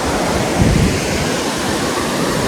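Clear canal water rushing downhill toward a river in a village, a loud, steady broadband roar of flowing water, close and continuous without pause.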